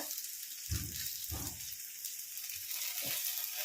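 Ivy gourd (kovakka) pieces frying in oil in a pan, a quiet steady sizzle with a few soft stirring knocks, faint and continuous with no talking.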